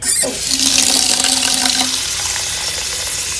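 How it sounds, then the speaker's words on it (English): Water gushes loudly from a tap nearby, splashing steadily into a basin for a few seconds with no talking. "Let me turn on the water here."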